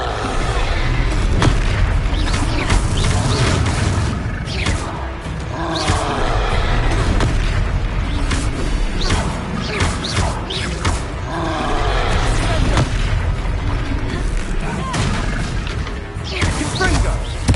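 Repeated Confringo explosion spells in Hogwarts Legacy during a fight with a hulking foe: loud, continuous booms and crashes layered over battle noise and voices, sustained throughout.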